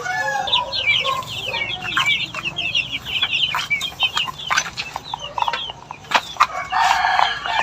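Heritage native roosters about five months old crow and cluck in a backyard farm, with several overlapping calls rising and falling in bursts, fairly close and loud, and no talk over them.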